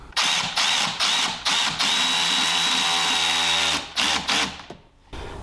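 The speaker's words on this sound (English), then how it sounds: "We can tighten up these 2 hose clamps." A power tool runs in short repeated bursts while tightening two hose clamps on the intake of a 2011-14 5.0 F-150 during a throttle body install, with one longer steady whir in the middle before it stops.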